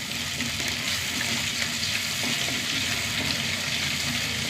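Chopped onions with garlic, ginger and curry leaves frying in a pan, a dense, even hiss and crackle that stays loud and constant throughout, with no voices.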